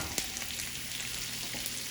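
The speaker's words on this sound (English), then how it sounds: "After the butter is melted in the pan, let's go now with, let's put the pasta" Pasta dropped into melted butter in a pan gives a steady, close sizzle with soft stirring clicks and a couple of faint knocks, no voices.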